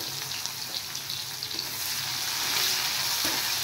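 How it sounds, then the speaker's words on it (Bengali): Chopped onions frying in a pan in a Bengali kitchen after brinjal has been fried, a steady bright sizzle with a few stirring scrapes, close and continuous, no talk. "এবার আমি দিয়ে দেব কুচিয়ে রাখা পেঁয়াজ।"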